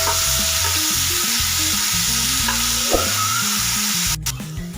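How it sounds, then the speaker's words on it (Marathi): Chopped onion sautéing in a cumin and mustard seed tempering, a loud close sizzle with scraping stirs and a faint clink near the end, no voices. "तो आपल्याला त्याच्यामध्ये घालून घ्यायचा आणि त्याचा कलर करून घेईपर्यंत त्याला व्यवस्थित परतून घ्यायचं"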